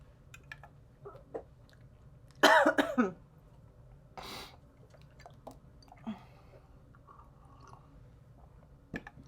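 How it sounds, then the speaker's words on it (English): A short burst of harsh coughing rises out of quiet room noise, followed by a single softer cough and a few faint clicks. "Oh, sorry, I had a coughing fit."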